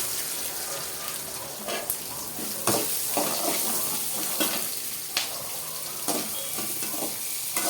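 Onions with curry leaves frying in a pan for Tamil-style khichdi, a continuous bright sizzle with periodic stirring scrapes and clatters cutting through.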